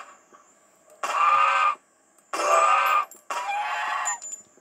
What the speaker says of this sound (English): Geese can really fly.